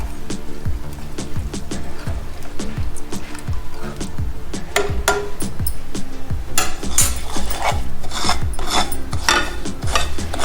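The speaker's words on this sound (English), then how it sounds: "We can also stir the syrup a bit." A spoon scrapes and rasps against a pan while sooji halwa, a semolina pudding mixture in syrup, is stirred, giving steady repeated strokes up close that run throughout with a few metallic clinks.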